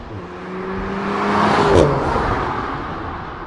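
Volkswagen Golf 8R engine on the road, a steady mid-loud drone with a rising rev swell peaking near the middle, then easing back into a continuous cruising hum.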